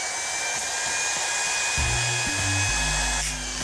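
Andis hair clippers with a rattle fault run with a steady high motor whine, joined partway through by a lower, rougher buzzing rattle that shifts in pitch. No one talks.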